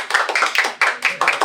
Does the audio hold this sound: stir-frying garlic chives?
no